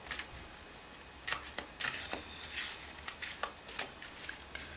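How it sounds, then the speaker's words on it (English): Angel oracle cards are shuffled by hand, a quick series of crisp riffling and flicking bursts at close range, with no voices. "I'm just going to shuffle these and think of an important message for us."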